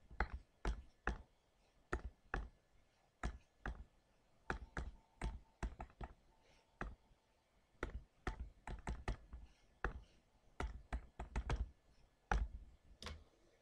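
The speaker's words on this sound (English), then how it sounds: "So press window and carefully type in this view window." Crisp, separate plastic clicks of graphing calculator buttons being pressed one at a time to set the view window, close and fairly dry, arriving in uneven bursts with short pauses and no talking.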